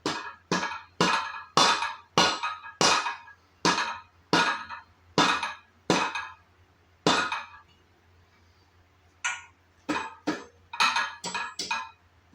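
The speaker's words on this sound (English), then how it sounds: "I just a couple gentle love taps, mallet out." Mallet taps on a part of a KaTool KT-2002 pneumatic tire changer, fitting it over powder coating: about a dozen sharp, clinking knocks at a steady rhythm, a short pause, then a quicker cluster of taps, close and with no talk.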